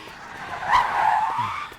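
Tires squeal in a sustained screech as a car skids to a stop, loud and close, with no voices.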